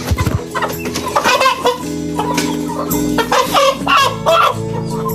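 Capon chickens, young roosters recently caponized, cluck and call close by in a rural yard, a busy overlapping flock chatter with one sharp call at the start, loud and steady throughout.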